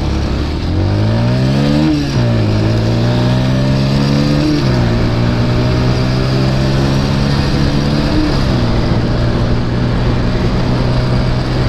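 A Bajaj P150 150cc motorcycle engine accelerates hard through several gears. Its loud, close buzzing pitch climbs and then drops at each shift, with no talk over it.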